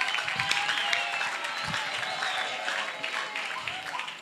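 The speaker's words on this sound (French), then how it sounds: "Je vais demander à la salle de l'applaudir massivement." A hall audience applauds at a Christian event, a dense steady wash of clapping lasting throughout, fairly loud and continuous with a few sharper claps standing out.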